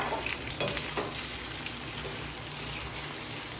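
Potato chips fry in oil with a soft, rain-like hiss that runs steadily throughout; a single clink of stirring stands out near the start, and no one talks.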